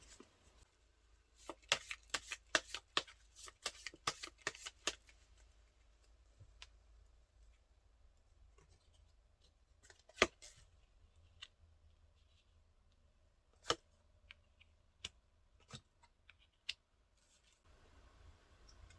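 Tarot cards shuffled and drawn during a reading, sparse sharp snaps and clicks in quick clusters early on, then isolated taps with quiet pauses between, close and soft.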